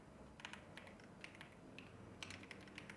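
Quiet keystrokes on a computer keyboard: scattered, uneven clicks and taps in short bursts, close by with a soft room hum beneath.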